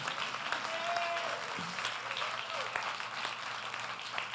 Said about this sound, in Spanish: Y no me la dejen a Gloria aplaudiendo sola.